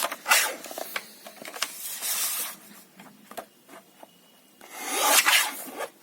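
Paper being trimmed for a pocket in a handmade mini chunky journal: close, intermittent rustling, rubbing and scraping strokes in a few louder bursts separated by quieter handling noises, with no talk.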